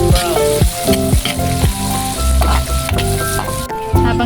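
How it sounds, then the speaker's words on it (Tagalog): Onion and garlic sautéing in a pan with loud continuous sizzling, broken by repeated scraping and clattering stirs of a utensil against the pan. "Habang ginigisa natin yung sibuyas bawang"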